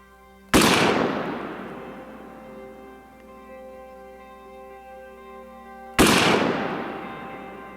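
Two loud, sharp rifle shots from an AR-15 style SPR rifle at an outdoor range, about five seconds apart, each followed by a long rolling echo.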